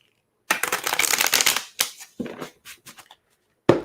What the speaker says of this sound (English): Let me shuffle while you're guessing.